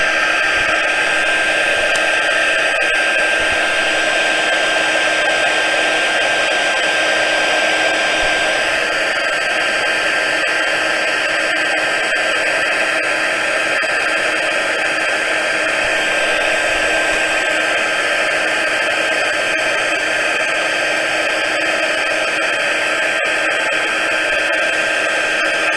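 A heat tool blows steadily and close at hand, heat setting a craft piece in one continuous, loud, even whoosh with no pauses.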